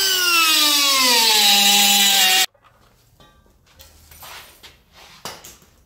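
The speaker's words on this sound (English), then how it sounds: "Taking out the spot welds." A steady high-pitched grinding whine from a small rounded deburring bit cutting out spot welds in a car body, running continuously for a couple of seconds, then cutting off into quieter handling noises.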